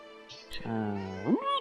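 A cat in the video game Divinity: Original Sin 2 lets out one drawn-out, close meow that bends upward at the end, preceded by a faint brief sound.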